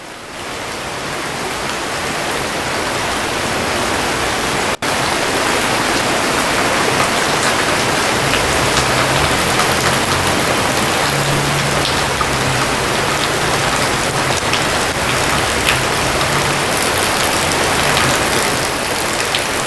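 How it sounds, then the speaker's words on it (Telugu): Heavy monsoon downpour pouring across Hyderabad, a dense, steady roar of rain on the streets that stays loud and unbroken throughout, with a single brief click partway in and no voices. "భారీ శబ్దంతో వర్షం పడడం మనం గమనించాం."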